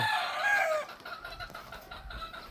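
A gamefowl stag, a young rooster, clucks and calls close by with a loud harmonic cry at the start, then keeps up softer, scattered clucks with farm background noise.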